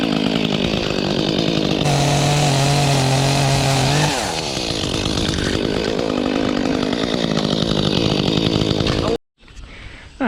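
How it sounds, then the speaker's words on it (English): A chainsaw cuts through a big tree branch during backyard yard work, its loud, steady engine roar running continuously with pitch shifts as the chain bites into the wood, then stopping abruptly near the end. "Chainsaw in there on this big one."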